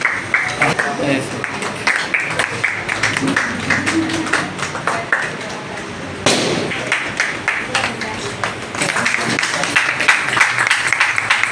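A crowd at a poetry book launch ceremony claps in uneven bursts with sharp thuds mixed in, the applause pausing briefly partway through before picking up again under the bustle of the room.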